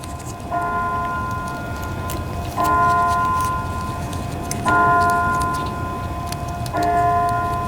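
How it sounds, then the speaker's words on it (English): Town church bells ring out at noon in four evenly spaced strikes, each resonant toll lingering and fading over a constant background hum. "Those are the town bells"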